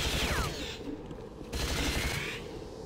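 Flak cannon fire in the first-person shooter Unreal Gold: two loud, bursting shotgun-like blasts with a short interval between them, each trailing off into a ringing decay.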